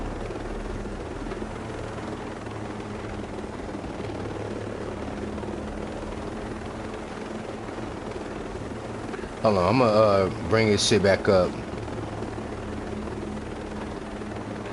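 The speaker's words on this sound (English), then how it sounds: "because this helicopter's kind of loud. It's kind of drowning out the audio." A helicopter's steady, droning rotor hum fills the scene throughout; someone briefly speaks over it partway through.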